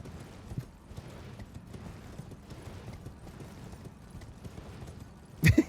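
Hooves of a horse ridden in a video game clip-clop steadily through the whole stretch, moderately loud over a low background rumble, ending with a louder burst of noise.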